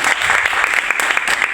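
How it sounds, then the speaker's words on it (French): A short burst of lively clapping from a group at a casting session in a community centre, steady and close, cheering a young woman's baccalaureate success. "Bah, félicitations, on t'applaudit,"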